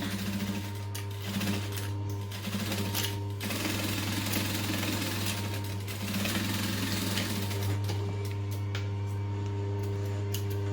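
A sewing machine runs steadily while stitching a backpack, forward for a couple of stitches and then in reverse for a back stitch, with brief pauses and changes in pace across the run.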